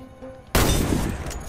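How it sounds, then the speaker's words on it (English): A single loud, close sniper rifle shot from the video game Warface bursts in after a brief quiet stretch, followed by a long, noisy rumbling decay with no voices. "Hit all the targets with your Sniper rifle."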